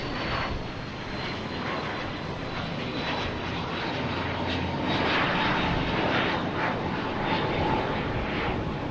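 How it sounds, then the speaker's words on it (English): A British Airways airliner taking off from runway 15 right at Boston Logan sends out a loud, steady engine roar with broad rushing noise that builds gradually and holds throughout, with no voices. "British Airways lining up on 15 right. That should be taking off here shortly."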